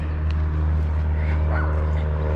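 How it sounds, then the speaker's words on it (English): A puppy at a park yips and whimpers in thin high bursts, half buried under a loud, steady low rumble close by. "Oh, puppy."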